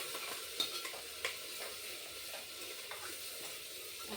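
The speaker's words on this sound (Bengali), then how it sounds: "এখানে সব সবজিগুলো একটু হালকা করে ভেজে নিচ্ছি" Vegetables frying lightly in a pan for khichuri give a steady soft sizzle, close and quiet, with a few brief stirring clinks over the top and no voices.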